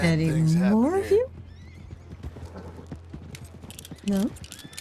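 Horses in Red Dead Redemption 2 neigh loudly, with one long whinny up close, then hooves clatter as they run off, and a second short neigh follows near the end.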